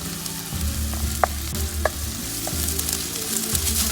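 Ginger, garlic and tomatoes frying in a pan for a chickpea and potato curry give a steady, close sizzle, with a few sharp clinks and stirring taps over the continuous crackle and no voices.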